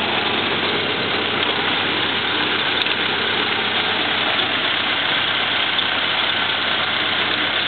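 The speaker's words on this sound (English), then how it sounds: "Standard Ford Model A engine," A 1930 Ford Model A police paddy wagon's standard 40-horsepower engine idles steadily and evenly at close range, a continuous rumble with no talking over it.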